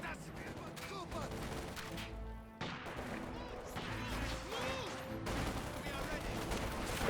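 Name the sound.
infantry gunfire in video game Company of Heroes 2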